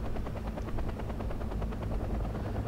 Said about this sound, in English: Transport chopper coming down.